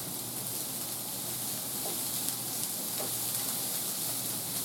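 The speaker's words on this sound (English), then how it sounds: "And I'm continuing to stir because I want to make sure it doesn't burn." Vegetables sizzle steadily in a pan while being stirred, a constant soft hiss with faint scraping, close and even throughout.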